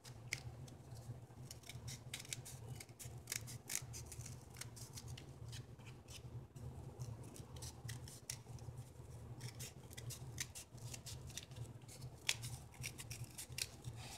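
Scissors snip through a wrapped piece for a children's educational craft, making a long run of quiet, close, repeated crisp cuts over a low steady hum, with no talking.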